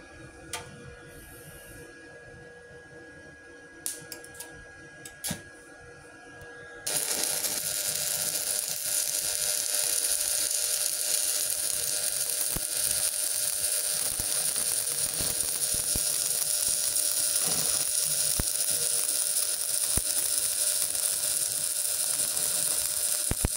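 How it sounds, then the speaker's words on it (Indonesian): Electric arc welding with a 450 watt welding machine: after a few clicks and taps, a steady loud crackling hiss starts and runs on without a break to the end. "Kita akan coba untuk mengelas di sini."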